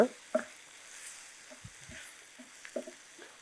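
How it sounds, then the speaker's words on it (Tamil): A spice mix with Kashmiri chili powder is stirred and sautéed in a pan, giving a faint, low sizzle broken by a few soft scrapes and taps of a utensil, with no talking. "அந்த பச்சை வாடை போகிற வரைக்கும் லைட்டாக அப்படியே வதக்கி எடுத்துக்கோங்க"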